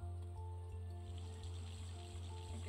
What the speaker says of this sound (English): that is still leaking water